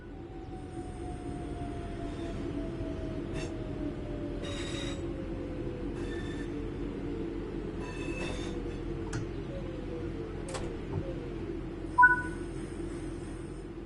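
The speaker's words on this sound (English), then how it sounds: "Bring the train to a stop by applying." A train in a train simulator video game brakes to a stop: a long, slowly falling whine runs under a steady rumble, with scattered ticks and clunks and a brief sharp squeal near the end.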